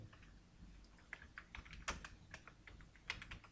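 Quiet, close computer keyboard typing, irregular key clicks with a few sharper taps, no voices.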